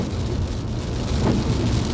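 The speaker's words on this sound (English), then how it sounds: "It's starting to rain now." Rain beginning to fall makes a dense, continuous hiss and patter with a low rumbling undertone, steady and fairly loud throughout, with no voices.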